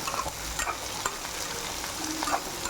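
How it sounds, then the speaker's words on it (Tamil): Brinjal sautéed in oil for kathirikkai vathakkal, with a busy close sizzle broken by quick spatula stirs and scrapes, and no one talking. "ஏன்னா இது எண்ணெயிலே தான் வதக்கல், இது வதக்க போகிறோம்."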